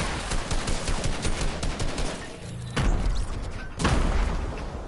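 A grenade blast booms out in a duo squads shooter game match, landing among dense, rapid bursts of gunfire, with a second heavy explosion following about a second later, both loud and close.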